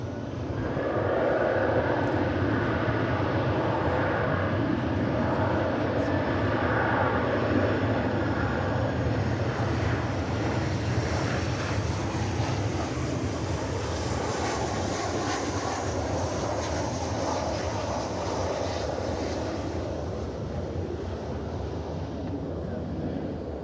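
American Airlines airliner arriving at DFW Airport, a loud sustained jet engine roar holding steady for over twenty seconds, close and dominant, with gusty wind buffeting the microphone and faint voices underneath.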